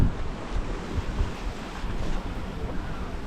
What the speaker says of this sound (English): Light winds, much lighter than we expected, about 8 knots of wind, but it's quite pleasant.